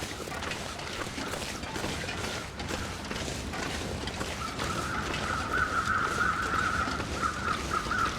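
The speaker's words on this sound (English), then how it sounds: "Yeah, plenty of crows up above all the dead bodies here, no doubt." Crows cawing in the snowy wilderness of the video game The Long Dark, a run of harsh calls rising over a steady windy ambient bed in the second half.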